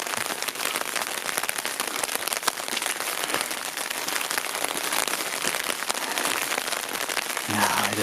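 Rain falls steadily on backpackers camping in snow in the Grand Canyon backcountry, a dense continuous patter close by that holds unchanged throughout.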